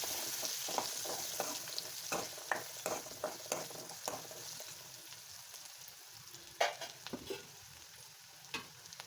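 Onions and chillies fry in a pan for a Kathiyawadi buttermilk potato and bhakhri curry, a steady sizzle broken by repeated sharp scrapes and clicks of stirring, close and fairly loud, with no talking.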